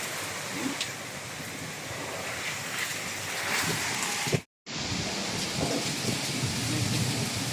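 Heavy rain pouring steadily with low thunder rumbling through a storm, a dense constant wash of sound broken by a brief cut to silence midway.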